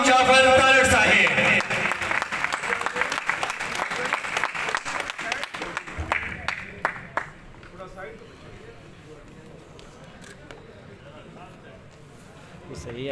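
Crowd applause at a district press club gathering in Hafizabad, loud and dense at first, then thinning into scattered claps and fading toward near quiet by the end.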